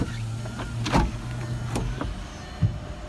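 The electric sunroof on a Volkswagen VR6 retracts with a steady whirring motor hum lasting about three seconds, plus a couple of mechanical clunks near the start and at the end, heard up close with no talking.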